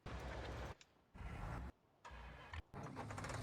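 A tractor engine on a farm cranks and starts in several short bursts, each loud rumble breaking off into a brief near-silence before catching again. No one speaks.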